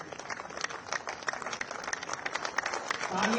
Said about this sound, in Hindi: तालियां बजती रहे लगातार